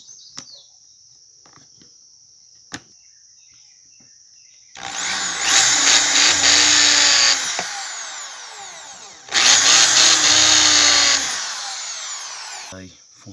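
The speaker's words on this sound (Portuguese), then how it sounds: "Pra nós fazer o furo lá, pra ele encaixar certinho" A power drill bores a hole through a wooden handle for a rice sickle, running in two sustained loud bursts of several seconds each, separated by a brief pause, with faint clicks before the first burst.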